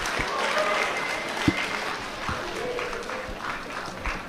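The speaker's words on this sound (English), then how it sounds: "Give yourselves a round of applause." A crowd of middle school students and teachers applauds at a school assembly, steady clapping filling the whole stretch with a few louder claps and faint voices mixed in.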